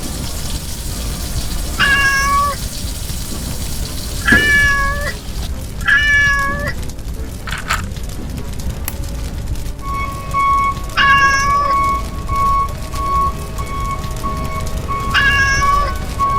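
A kitten meows repeatedly in short, high, clear cries spaced a couple of seconds apart, loud and close, with a longer drawn-out meow near the middle over a faint background hiss.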